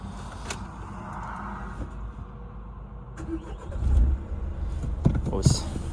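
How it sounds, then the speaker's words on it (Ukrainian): A diesel Renault Scenic 3 1.6 engine cranks and catches near the end, settling into a low idle rumble after a stretch of quiet background noise. "Можна почути, як вона завелася."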